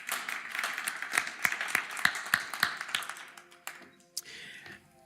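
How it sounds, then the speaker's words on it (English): An audience applauds a woman panelist at a panel discussion launch event, with a burst of close, distinct claps that thins out and fades to scattered taps, then a single late clap. "So let's give her a round of applause."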